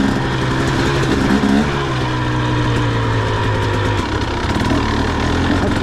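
A 2023 KTM 300XC TBI two-stroke dirt bike engine idles steadily and close by, a low, lumpy, continuous burble with a rough chugging character throughout.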